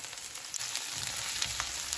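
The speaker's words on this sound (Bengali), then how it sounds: "পেঁয়াজটা আমরা হালকা ভাজা ভাজা করে নিয়েছি" Sliced onions lightly frying over medium heat in a pan while making potato and long bean bhaji, giving a steady close sizzle and crackle with soft stirring clicks throughout.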